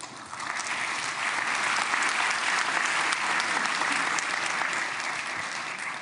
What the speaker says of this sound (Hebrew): ניתן יהיה למחוא כפיים בישיבה זו כפי שכבר ראיתם